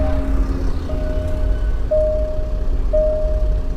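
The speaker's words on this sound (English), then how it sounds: "This compressor works really quick." The air suspension compressor of a Range Rover Sport raises the vehicle into high mode, a steady mechanical hum and rumble close by, with a thin whining tone that repeats in short bursts. No voices.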